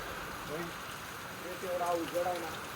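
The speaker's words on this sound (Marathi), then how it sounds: "पाऊस वाढायला लागलाय वारं सुटलाय" Rain and wind on the Kalsubai mountain trek make a faint, steady hiss throughout, with a person talking over it.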